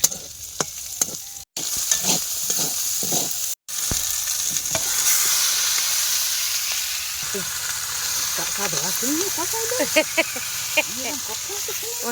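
Puti fish fry in a pan of hot oil with a steady, loud sizzle and occasional spatters, while people talk nearby in a home kitchen.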